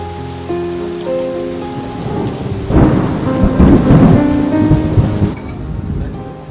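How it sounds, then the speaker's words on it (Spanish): Steady heavy rain pouring down in Nuremberg, Germany, with a deep rolling rumble of thunder swelling in the middle before fading. "La lluvia se transforma en tormenta"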